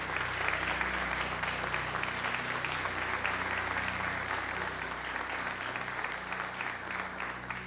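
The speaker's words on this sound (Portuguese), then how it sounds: "Aplauda ao Senhor e glorifique o seu nome." Church congregation applauding during a worship service, a continuous wash of clapping with a steady low hum underneath, fairly even in loudness throughout.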